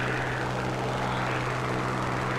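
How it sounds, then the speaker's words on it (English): A warplane engine in War Thunder roars loud and steady at war emergency power, a dense, unbroken drone with a low propeller hum, and no talking. "My plane is, like, constantly ripping."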